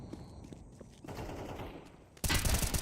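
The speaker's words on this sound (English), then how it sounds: "finding a fresh shot with the Deagle pistols of WOPA" Desert Eagle pistol fire in a pro competitive shooter match, with a few distant shots and footsteps before a sudden loud burst of close, rapid gunfire near the end.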